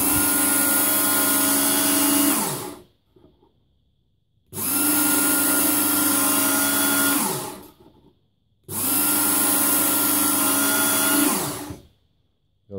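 Work Sharp Knife & Tool Sharpener belt grinding a knife blade: three separate bursts of steady motor whine and abrasive rasp, each about two to three seconds long, with short silent pauses between, loud and close.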